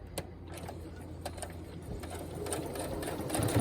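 A sewing machine stitches through webbing and ribbon for a key fob, a steady close mechanical whir that picks up slightly toward the end, with faint talk beneath.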